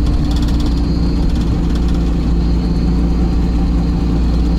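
A 1957 Moskvich 402 car engine runs loud and close with a steady, rough exhaust drone, idling and holding revs without any talk over it.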